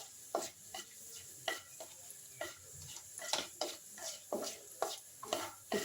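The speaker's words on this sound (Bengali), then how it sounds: "শুকনো লঙ্কা আর গোটা জিরেটাকে আমি একটু ফ্রাই করে নিচ্ছি" Dried red chilli and whole cumin frying in oil, with a spoon stirring and scraping the pan in repeated short strokes over a soft, steady sizzle. Close by, with no talking.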